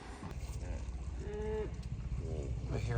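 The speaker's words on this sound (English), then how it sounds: "I hear a hippo." A hippopotamus in Zambezi National Park gives deep, drawn-out, moaning calls in a few rising and falling bursts, heard from a boat over steady low rumbling background noise.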